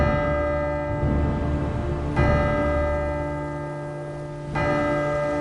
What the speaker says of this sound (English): That's the wedding bells.